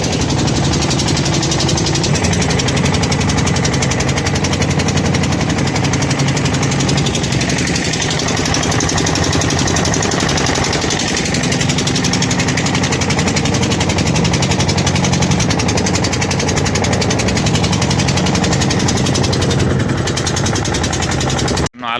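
Boat engine running continuously, loud and close with a steady rough drone and rattling vibration that goes on without a break, no clear talk over it.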